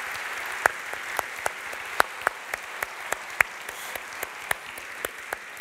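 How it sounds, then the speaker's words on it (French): A few people in a conference hall clap sparsely, producing separate sharp claps at an irregular pace over a quiet room tone. "je vous propose d'applaudir Christine Pirot, qui est là quelque part."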